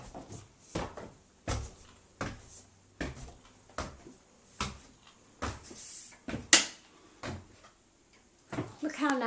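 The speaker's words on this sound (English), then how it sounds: "You pull them out and you go like that and they just close but gradually by themselves." Soft-close drawers being pulled out and pushed, giving a regular series of close muffled thumps and slides about every second, with a brief squeaky scrape near the end.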